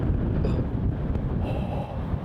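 Wind sweeps across a disc golf course in Melbourne, rumbling steadily and buffeting the microphone with a low, continuous roar and no voices.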